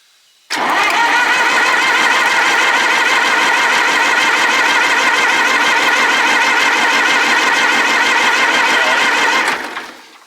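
An old abandoned farm tractor engine cranks steadily for about nine seconds while fuel is primed, a loud, close, rapid mechanical chugging that starts abruptly and stops, with no talk over it.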